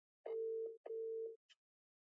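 A phone ringback tone sounds while calling, two steady beeps of about half a second each with a short gap, followed by a brief faint blip, otherwise silent.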